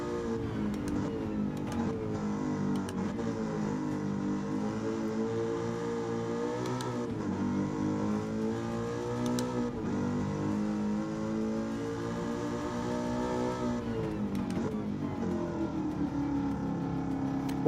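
A 2015 Ford Mustang GT V8 in Gran Turismo 7 revs continuously, its engine note climbing and dropping through gear changes, a steady loud in-car drone with no talking.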